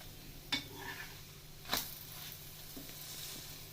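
A coconut roti cooking in oil or ghee on a pan, a soft sizzle with two brief scraping or utensil knocks, quiet and close, no talk.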